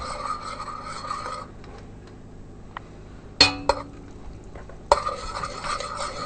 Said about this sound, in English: It's off the fire now. Ow, and we're stirring it around.